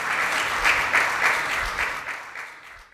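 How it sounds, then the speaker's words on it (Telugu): A church congregation claps loudly together in praise for a few seconds, a dense, steady applause that fades at the end. "గట్టిగా చప్పట్లు కొట్టి దేవునికి స్తోత్రం చెల్లిద్దాం."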